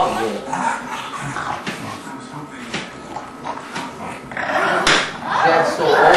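An English Bulldog and an English Mastiff puppy play together indoors, with scattered growls, yips and whimpers under people talking throughout and a few sharp thumps or bumps.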